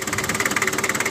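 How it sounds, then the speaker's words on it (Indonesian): A 1990 Toyota Taft Hiline 4x4 engine idles steadily, a close, even mechanical chug with a regular pulsing rhythm and no voices over it. "mesinnya juga bagus, gak ngobos"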